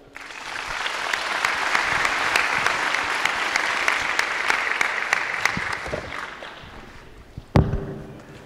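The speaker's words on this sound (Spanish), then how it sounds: "Démosle un fuerte aplauso a este hermano." Sustained applause from a church congregation welcoming a Christian preacher, broad and steady for several seconds before fading, with a sharp thump near the end.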